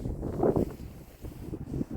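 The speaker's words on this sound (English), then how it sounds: "it's a little windy today." Wind blows across a backyard of a new Lennar home, buffeting the microphone with a low, uneven rumble that swells and eases over a couple of seconds.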